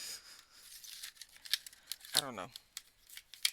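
Paper is pulled and torn against a beveled paper guide close by, giving quiet scratchy tearing and rustling bursts, while a person briefly speaks.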